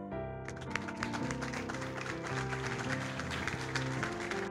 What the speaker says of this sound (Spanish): Les pido, con todo el respeto que se merecen, que los recibamos con un fuerte aplauso